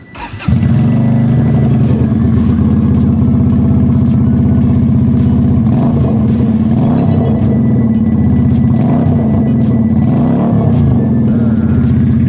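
A Keeway custom motorcycle with a free-flow exhaust roars loudly and steadily with a deep, bassy rumble, revving up and down several times, close by and with no talking.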